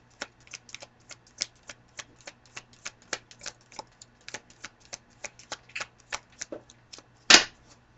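A deck of tarot cards is shuffled by hand in a quiet room, a steady run of crisp close card flicks followed by one louder riffle near the end.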